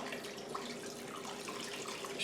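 Four cups of water being poured over chicken in a crockpot, a steady splashing trickle that runs continuously at moderate level without any voices.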